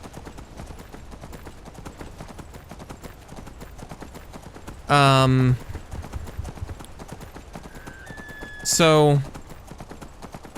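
Two loud horse neighs ring out during a ride in Skyrim, each about half a second long and spaced a few seconds apart, over a low, busy background with a brief voice.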